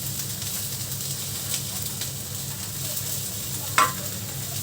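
Onion, capsicum and garlic fry in a hot pan with a steady close sizzle and hiss, broken by a few soft stirring scrapes and one sharp clink near the end.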